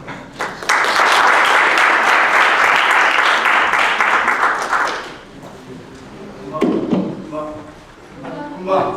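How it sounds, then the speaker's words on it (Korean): A church audience bursts into loud, dense applause that lasts about four seconds and then dies away, followed by scattered voices and a short burst of speech. "나오실 때 큰 박수로 해주시기 바랍니다"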